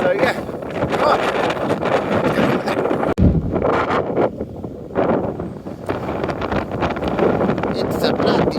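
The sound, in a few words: strong wind buffeting the microphone on a walk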